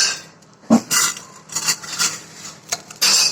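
Washed rice is tipped into a cooking pot for chicken biryani, giving several close, gritty rattling bursts with clinks of metal utensils and short quiet gaps between them.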